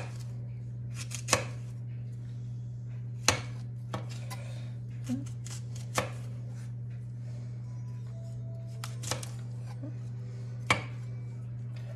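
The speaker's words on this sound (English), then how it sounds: "Slice the fennel." A knife thinly slices fennel on a board, producing sharp, distinct cutting knocks spaced about a second or two apart over a steady low background hum.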